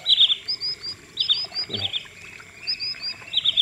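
Snipe calls ring out at a net-trapping site in short, high, repeated chirps, two birds calling in slightly different tones, with a brief low thump partway through.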